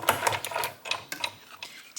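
A snowflake embossing folder with a white hexagon of cardstock cranked through a die-cutting machine, giving a close series of rapid clicking, ratcheting bursts.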